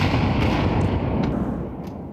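Grenades bursting in a Counter-Strike match, a dense rumbling blast of explosions and gunfire filling the mix at high volume, slowly fading over about two seconds.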